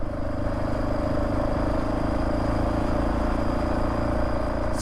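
A Honda XR650R motorcycle being ridden, its engine a steady loud, close drone with a low rumble and a constant whine, no talking.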